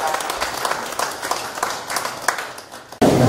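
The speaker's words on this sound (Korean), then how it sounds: "빨리 완쾌하시라고 박수 한번 부탁드리겠습니다." An audience at a Korean craft art exhibition opening in a gallery claps in scattered, steady applause for a few seconds, then a louder burst of sound takes over at the end.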